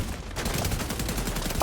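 Gunfire in a PvP video game: a dense, continuous burst of rapid shots fills the whole moment, loud and close, with no talking over it.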